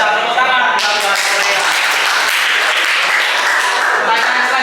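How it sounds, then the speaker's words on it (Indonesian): Classroom applause from a group of students, a dense burst of clapping that starts abruptly and continues steadily and loudly for several seconds. "Tepuk tangan."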